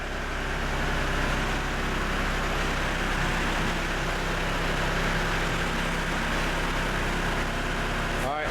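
A barn-work vehicle engine idles down to 1,000 RPM with a steady, loud, continuous low rumble and hum that holds evenly throughout.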